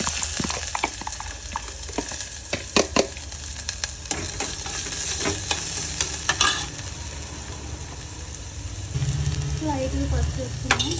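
Oil frying cumin seeds, mustard seeds and chopped onions in a pan, with a steady sizzle, sharp spatula scrapes and clicks throughout, and a low rumble near the end.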